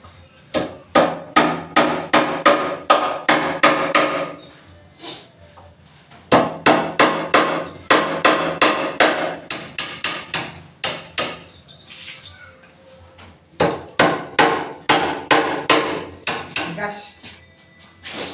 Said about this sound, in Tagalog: Kaya naglalagay ng mga pako sa mga